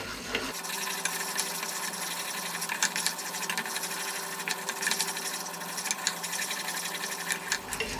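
Butter and flour stirred steadily in a pan over low heat for a lasagne roux: a continuous soft scraping and rubbing texture with light tapping, moderately quiet and without talk.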